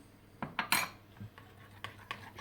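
A utensil stirs rabbit meat seasoned with black pepper and thyme in a pot, a few close metallic clinks and scrapes clustered near the start, then fainter taps.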